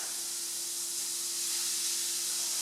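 Ground meat dropped into a hot pan of onions for spaghetti bolognese, giving a steady, loud, close hissing sizzle that holds for the whole stretch with no voices over it.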